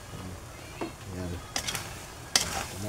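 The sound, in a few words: dinuguan pork blood stew simmering and stirred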